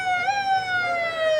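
A police car siren leads a small-town pepper festival parade, its loud, close wail sliding slowly downward in pitch and holding steady over faint road noise.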